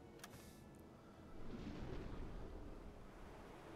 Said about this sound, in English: Not as noisy with the torpedo firing.